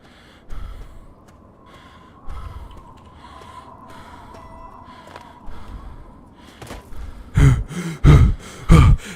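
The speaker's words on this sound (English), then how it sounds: "Heavy breathing." A Fallout 3 game character breathes heavily in a series of gasps and sighs over a quiet hum, with several loud, close breaths bunched together toward the end.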